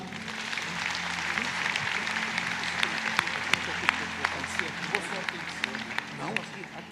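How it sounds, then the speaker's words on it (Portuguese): A church congregation at a convention claps to welcome a pastor, a soft, distant spread of applause with sharper individual claps standing out near the end and voices murmuring beneath. "vamos receber com uma calorosa salva de palmas o pastor Marco Feliciano"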